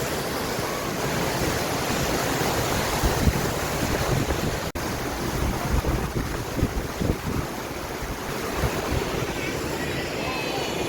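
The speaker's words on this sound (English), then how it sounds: "Quite breezy." Steady outdoor wind near Gunlock Falls, a constant broad rush with gusty buffeting against the microphone throughout, loud and close, with no clear speech.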